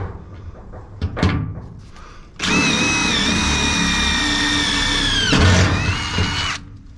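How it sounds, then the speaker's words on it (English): A power drill whines loudly and continuously for about four seconds, its motor pitch dipping briefly midway, after some handling clunks. "Now I just need to mark my holes and get drilling."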